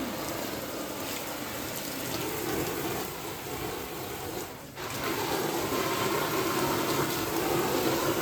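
Water running steadily while a poultry shed is washed out, a continuous close rushing and splashing with one brief dip partway before it resumes.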